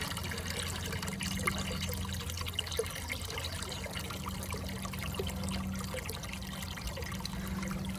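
Water runs and trickles steadily out of a pressurised pond filter during cleaning, a faint continuous splashing flow with a low hum beneath it, outdoors in a garden with no talk.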